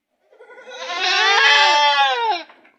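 A goat on a Jamaican goat farm lets out one long, loud, wavering bleat, close by and with nothing else audible around it.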